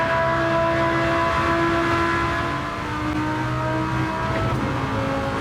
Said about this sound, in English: with that full racing exhaust, that V10 absolutely howls and sounds incredible